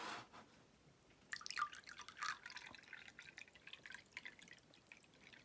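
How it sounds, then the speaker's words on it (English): Water is poured by hand into a row of cups set on a desk, faint trickling and splashing in small uneven bursts over a quiet room, with soft drips between pours. "I'm going to fill each of these up completely full with water"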